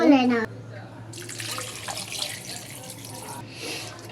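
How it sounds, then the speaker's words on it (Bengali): Water pours steadily into a cooking pot of hand-mashed masoor dal, a broad rushing splash that runs for a few seconds after a brief voice at the start. "এখানে আমি এখন পানি অ্যাড করে দেব"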